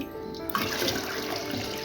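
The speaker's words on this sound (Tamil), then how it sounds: "இப்போது தண்ணி சேர்த்துருக்கேன் மூணு கப் தண்ணி சேர்த்துக்கோங்க" Three cups of water poured into soaked, washed rice and split moong lentils for ven pongal, a continuous splashing gush that swells after a half-second start, close and steady.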